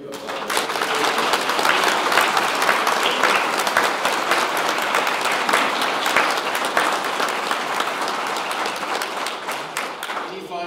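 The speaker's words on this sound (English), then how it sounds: "Let's give you a round of applause." Sustained, evenly dense applause from an audience at an evening talk event, continuing strongly for the whole stretch without pause.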